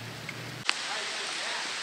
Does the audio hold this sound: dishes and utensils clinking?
no